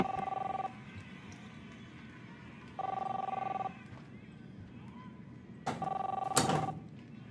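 A telephone rings in the video game Captain Spirit, three bursts of electronic ringing spaced a couple of seconds apart, with a sharp clatter at the end as the phone is picked up, set against a quiet room tone.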